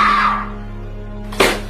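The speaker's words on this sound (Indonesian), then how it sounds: "tiba-tiba berteriak" A woman lets out a sudden loud scream in a dramatic film scene. The cry is short and high-pitched, fades within half a second, and is followed by a low steady hum and a sharp burst of noise.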